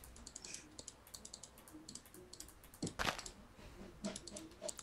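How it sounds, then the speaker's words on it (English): Typing on a computer keyboard during a Minecraft Pixelmon gaming session, a quick run of soft, light key clicks close to the microphone, with a denser clatter of keys near the end. "Oh, I'm typing by accident."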